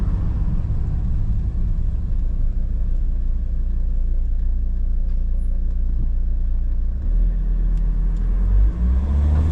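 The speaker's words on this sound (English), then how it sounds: "I'll just stay here and let this car come along." A car rolls slowly along a narrow town street in Hebden Bridge, its steady engine rumble close and continuous, swelling slightly as it draws near toward the end.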